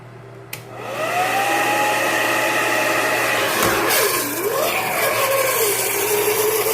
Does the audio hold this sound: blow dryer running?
yes